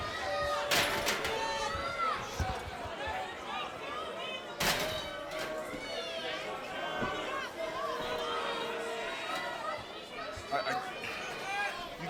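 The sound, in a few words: hushed wrestling arena crowd watching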